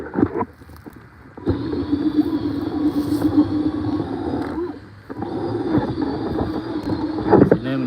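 A 1/20 scale Cat 793D model mining truck drives with a loud, close electric motor whine and gear rumble that runs in two long bursts separated by brief pauses, with handling noise at the start and end.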